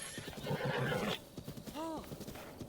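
A horse in Breath of the Wild whinnies loudly over clopping hooves and game noise, then a few quieter calls follow while a voice speaks.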